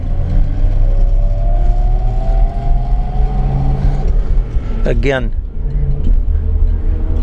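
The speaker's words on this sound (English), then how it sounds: "drives nice, plenty of acceleration, little 6-cylinder engine, but it drives great." A restored 1965 Mustang coupe with a six-cylinder engine and three-speed manual rumbles steadily under load while driving, with a gear-change pitch rise midway, heard from inside the car beneath someone talking.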